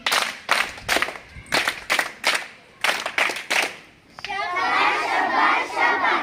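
A group of children claps in three loud, rhythmic bursts of sharp claps, then breaks into a sustained cheer and shouting, close and loud.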